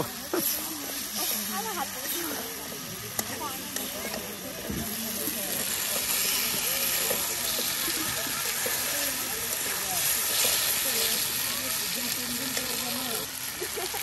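Fried pangas fish added to a hot pan by a riverbank, a steady hissing sizzle that swells and holds, with a person talking over it.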